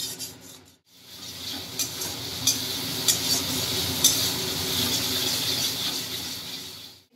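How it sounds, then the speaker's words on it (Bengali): A utensil scrapes and stirs katla fish kalia with yogurt in a kadai, a close, continuous rasping and rubbing with small regular scrape accents and a faint sizzle underneath. "দই দেওয়ার পর কিন্তু নেড়ে রাখতেই হবে কড়াইটা"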